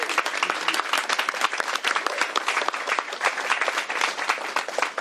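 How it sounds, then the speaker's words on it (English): A crowd at a governor's bill signing applauds continuously, dense steady clapping filling the room for several seconds with no pauses. "Another round of applause."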